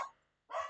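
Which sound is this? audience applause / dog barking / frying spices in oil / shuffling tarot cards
dog barking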